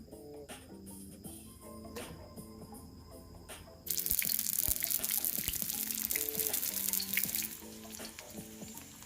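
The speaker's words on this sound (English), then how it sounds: "Going to fry these eggplants, which I have already cut and washed and dried it." Cut eggplants sizzle and fry in several tablespoons of hot oil, a steady loud crackling hiss that starts abruptly partway through and continues, preceded by quieter kitchen sounds.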